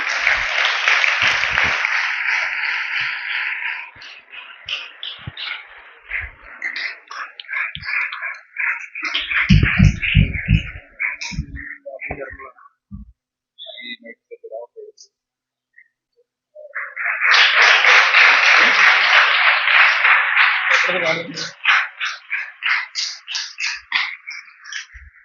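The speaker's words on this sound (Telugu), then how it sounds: "చప్పట్లు కొట్టండి వారి కోసం" A congregation applauding council members at a Sunday church service: a loud, dense burst of clapping that thins into scattered claps and falls silent, then a second full round of applause swells up and fades again.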